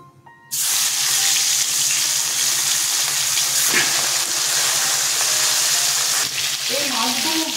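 After a quiet start, the remaining katla fish pieces drop into hot oil and a loud, dense sizzle erupts, then holds steady and close until the end.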